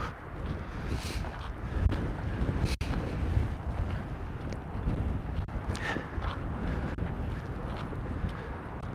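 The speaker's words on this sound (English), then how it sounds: "The wind is just really picking up here right now." Strong wind blowing outdoors, buffeting the microphone in continuous gusty rumbling with a few sharp knocks, fairly faint overall.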